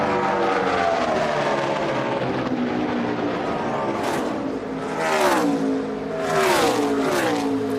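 NASCAR Sprint Cup race cars roar around the track at Michigan, a continuous loud engine drone with swelling pitch sweeps as cars pass by, with no talk over it.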